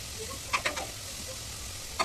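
Onion with ginger garlic paste fries quietly in oil, a soft sizzle under a few sharp clinks of a spoon against the pan, with no one speaking.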